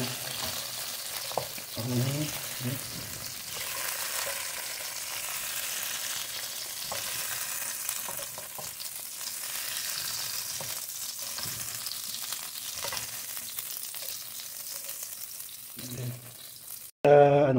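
Vegetables sizzle and fry steadily in a pan for a chicken calderita dish, a constant moderate crackle with occasional stirring clatter and a person talking faintly over it, ending in a sudden louder clank.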